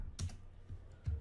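A few quiet, close keystrokes on a computer keyboard while typing code, with soft clicks and low thumps at irregular intervals and no voice.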